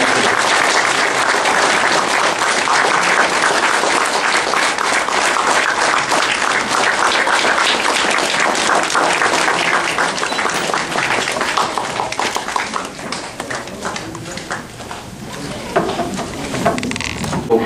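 A standing audience applauds at the Non-Resident Nepali Association conference in Amsterdam, 2012: dense, loud, sustained clapping from a large crowd that holds steady for most of its length, then thins slightly near the end.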